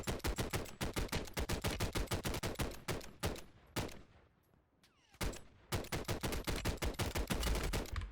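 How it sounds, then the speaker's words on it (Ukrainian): Rapid bursts of automatic gunfire in Call of Duty: Warzone crack loudly and repeatedly, pause briefly for a few seconds, then resume in a sustained volley. "Ладно, трошки відійду, бо стріляють же з, зі всіх сторін, Петі."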